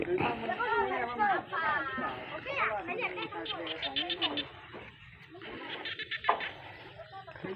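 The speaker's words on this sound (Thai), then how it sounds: "เสียงกบเขียดร้อง" Frogs croak in evening rice fields by a two-storey hut, with repeated pulsing calls layered over the chatter of children playing nearby.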